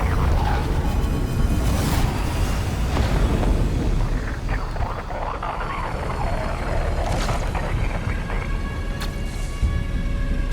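Battle din at a starport in Warhammer 40K: Rogue Trader, with dense, continuous rumbling ordnance and scattered sharp blasts layered under a steady roar, loud throughout the scene.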